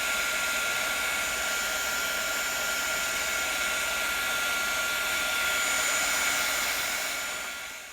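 A heat gun blows a steady, close, whooshing roar while shrinking heat shrink tubing over motor connector wiring, holding level for about eight seconds before easing off, with no talking.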